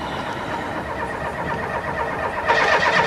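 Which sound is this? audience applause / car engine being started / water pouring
car engine being started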